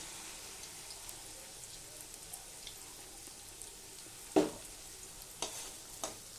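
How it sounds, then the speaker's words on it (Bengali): Egg frying with potatoes and onions in a pan for chow mein: a faint, steady sizzle with a few sharp utensil clicks toward the end. "আলুর সাথে ডিমটা পুরো ভাজা ভাজা হয়ে যাচ্ছে"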